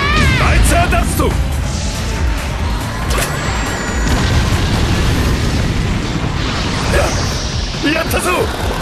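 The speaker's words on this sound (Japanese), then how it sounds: "キラークイーン第3の爆弾" Killer Queen's bomb detonating in the JoJo's Bizarre Adventure: All Star Battle fighting game, a loud, dense stretch of crashing bursts and booms that runs the whole time, with voices speaking over it.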